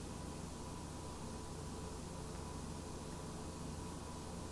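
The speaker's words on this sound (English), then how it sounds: "On this system, you can hear the air conditioner." A room air conditioner runs as a steady, faint broadband hiss in the background, unchanging throughout with no other sounds or voices.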